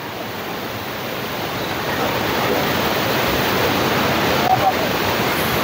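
Krishna river floodwater rushes through the Prakasam barrage gates in a forceful, continuous roar that builds slightly and stays constant, broad and close.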